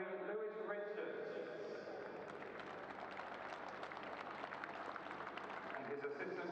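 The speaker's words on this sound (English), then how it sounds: "a big round of applause for referee Lewis Richards" Crowd applauding the referee at a youth football trophy presentation after an under-13 final, a steady dense wash of clapping throughout, fairly faint and distant, with a voice heard over it.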